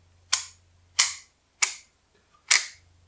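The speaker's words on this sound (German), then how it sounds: "und dann haben wir da noch den Auslöser." The shutter release of a Diana F+ camera clicks four times at roughly even intervals, each a sharp, close snap that fades quickly, with no voices.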